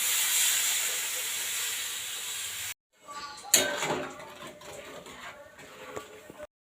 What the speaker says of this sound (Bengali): এরপর দিয়ে দিলাম জল।